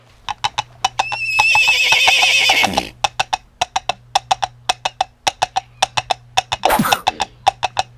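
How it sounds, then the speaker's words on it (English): A radio comedy sound effect of a horse in a kitchen: a loud whinny, then hooves clop in a quick, uneven rhythm on a hard floor, followed by a second short neigh. "Good heavens, there's a horse in the kitchen."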